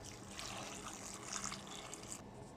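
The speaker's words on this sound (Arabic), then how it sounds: "ميه مغليه بقى" Boiling water pours steadily into a cooking pot in a continuous splashing rush, close by, with no talking.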